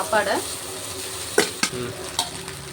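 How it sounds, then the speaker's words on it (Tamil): A spoon stirs cooked rice into vegetables frying in a pan for egg fried rice, with a steady close sizzle and a few sharp scrapes and clinks of the spoon against the pan. "ஆட் பண்ணி கிளறிட்டு சாதத்தை சேர்த்துக்கலாம்"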